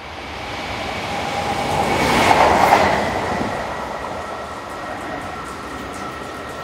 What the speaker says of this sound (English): Heading towards the camera is freight loco number 1319.